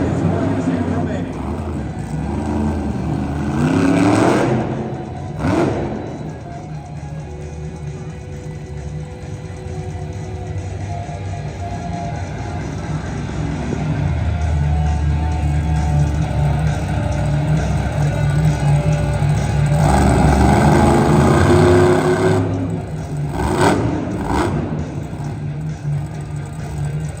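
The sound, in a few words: Monster Jam monster truck engine revving on the track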